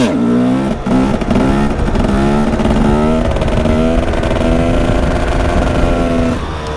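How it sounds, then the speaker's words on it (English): A 300cc two-stroke supermoto motorcycle held in third gear, its engine revving loud and close with a constant buzzing drone whose pitch wavers up and down without settling, continuous for the whole stretch. "you can't just go with a steady gas, because it will rev up when you're going"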